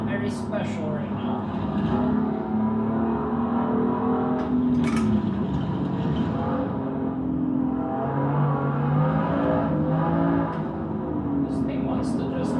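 A Porsche 911 or BMW M2 racing in Assetto Corsa EVO gives a steady engine drone whose pitch climbs and drops through gear changes, close and loud, with a person talking over it.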